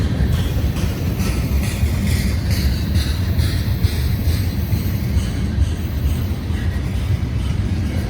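A long freight train hauled by five locomotives with a distributed power unit shoving at the rear rolls steadily past at close range, a continuous rumble and rattle of cars with faint rhythmic clicks of wheels over rail joints across a railroad bridge.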